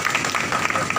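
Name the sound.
audience clapping in welcome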